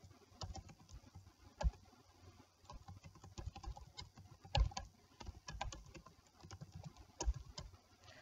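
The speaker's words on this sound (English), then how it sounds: "So I'm just going to type in some names here." Names being typed on a computer keyboard, a quiet, uneven run of light key clicks with a few sharper taps, close and without speech.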